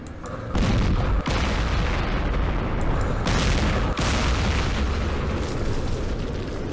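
Heavy tank cannon fire in a wargame, loud booming blasts in quick succession with a continuous dense rumble of battle noise throughout.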